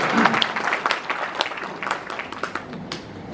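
An audience claps to encourage a nervous speaker, a loose burst of scattered individual claps that thins out over a few seconds.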